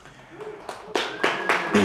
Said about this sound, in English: There was an applause.